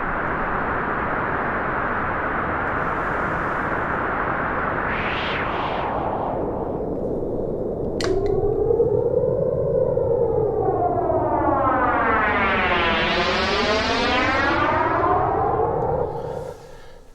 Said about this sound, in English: Let's just do noise through it so you can hear the flanger on its own